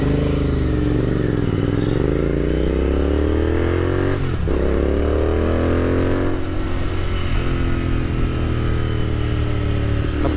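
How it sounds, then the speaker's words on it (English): Royal Enfield Continental GT650 twin with Red Rooster performance exhaust, a loud, deep motorcycle engine rumble held steady, then a revving blip and settling back to a throaty idle-to-midrange drone, close and continuous. "These are like really loud pipes."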